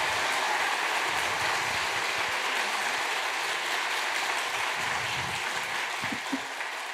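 Audience applause at a Sunday church service for a pianist after a performance, a continuous, moderately distant clatter of clapping hands that holds steady for several seconds and then tapers slightly.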